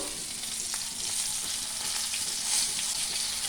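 Eggplant pieces fry in mustard oil with turmeric, making a loud, even sizzle close by, with faint stirring scrapes and no voices.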